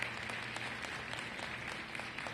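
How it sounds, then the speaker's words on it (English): An audience at a food hub opening ceremony in Boston claps in a steady, fairly quiet wash of applause lasting a couple of seconds, heard alone without speech. "That deserves a round of applause."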